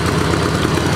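Yamaha RD 350 two-stroke motorcycle engine idling slightly high after carburettor balancing, a loud, close, steady buzzing drone without pause.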